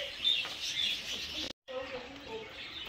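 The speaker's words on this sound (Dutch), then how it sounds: "Oh, hier heb je allemaal vogeltjes." Many small birds, including parakeets, chirp and twitter continuously in a bird enclosure, a dense bright chatter close by with a brief dropout midway.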